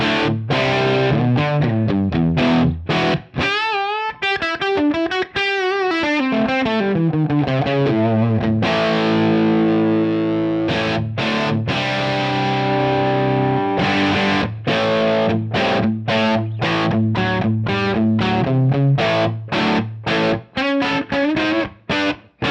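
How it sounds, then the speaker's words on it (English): Heavily distorted electric guitar through a Line 6 Helix amp model with bias cranked to 10 chugs and riffs, with quick palm-muted stabs, bends and sustained chords, loud and gritty throughout. "Let's crank that up to 10 and see what it does to the distortion characteristics"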